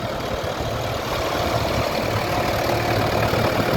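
A steady, moderately loud engine drone with a low rumble holds evenly throughout, from a Roadless tracked Ford tractor driving off from a rally arena.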